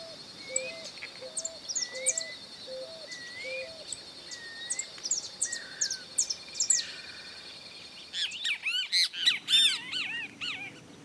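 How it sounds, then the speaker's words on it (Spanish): A saffron finch calls from high on a chinaberry branch in rural Santa Fe, Argentina, giving repeated short chirps and trills over a steady insect hum, with a denser burst of bird calls near the end. "En lo alto de una rama de paraíso se lucía un jilguero dorado."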